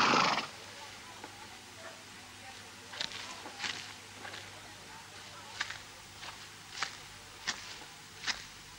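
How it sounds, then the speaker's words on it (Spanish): A horse gives a loud, close whinny at the start among a small herd of pinto, bay and roan horses in an old Western film, followed by scattered hoof knocks and snorts at irregular intervals. "Estos caballos son para ti."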